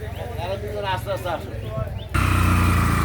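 A motorcycle engine starts up loud and close as riders leave Palerchar market in Shariatpur, cutting in abruptly after a stretch of nearby talk and then running steadily.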